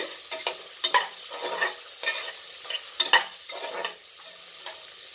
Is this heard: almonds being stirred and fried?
yes